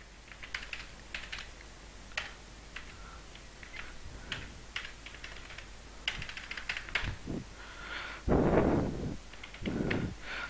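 Brisk computer keyboard typing as a voucher entry is re-entered in Tally accounting software, with uneven bursts of close key clicks and a couple of heavier thumps toward the end.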